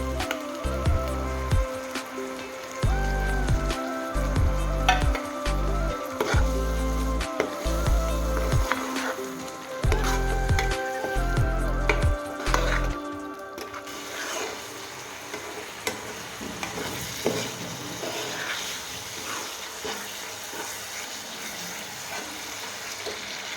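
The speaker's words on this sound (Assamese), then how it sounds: "এতিয়া ইয়াতে পিচি থোৱা বিলাহীখিনি দিম" Ground tomatoes sizzle and fry in a pan for chole paneer masala, with a steady, close hiss. Clanking stirs are heard at first, then the frying goes on alone.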